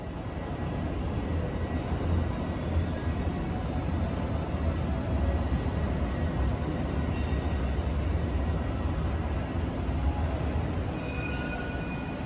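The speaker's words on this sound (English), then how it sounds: "After the Star stop, the L1 comes out of the tunnel underneath Point Street." An Alstom Citadis tram on the Sydney Light Rail L1 line emerges from the tunnel beneath Pyrmont's Point Street, with a steady, loud rumble of wheels and motor and brief faint high squeals.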